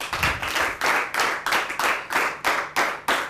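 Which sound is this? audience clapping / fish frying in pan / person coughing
audience clapping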